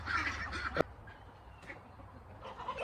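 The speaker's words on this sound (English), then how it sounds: "because they're absolutely amazing ducks. They're so cute and they're so friendly, and they're loud." Ducks on a homestead call loudly and raucously, a series of harsh honking quacks overlapping close by, with no talking.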